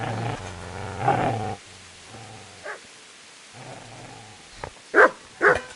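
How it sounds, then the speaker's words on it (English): A dog in the medieval video game Kingdom Come barks and growls, with a low growl at the start, a few scattered bursts mid-way, then two sharp, loud barks near the end. "Get away, you mutt!"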